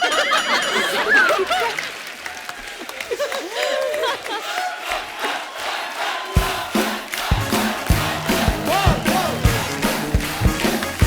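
A studio audience on a comedy talk show applauds and cheers for the women's World Cup-winning cricket team, loud and steady throughout, with voices calling out and laughing amid the clapping and a rhythmic beat joining partway through.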